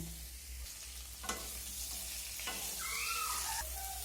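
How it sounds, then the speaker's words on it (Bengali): Cut pointed gourd fries quietly in mustard oil, a faint, even sizzle over a low background hum, with one brief knock of a utensil and a few soft stirs. "তেলের মধ্যে প্রথমে কেটে রাখা পটলগুলো ভেজে নেব।"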